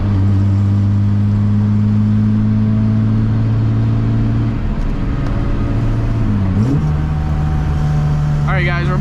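BMW E36 engine holding loud steady revs close by while drifting, then dipping and rising sharply before tire squeal breaks in at the end, voices heard briefly.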